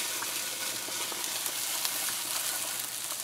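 Meatballs fry in a pan on the stove with a steady, fairly quiet sizzle and scattered crackles, alone without talk.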